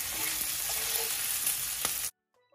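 Bacon frying crisp in a pan, a steady dense sizzle with faint crackles and a utensil scrape, cutting off abruptly to near silence.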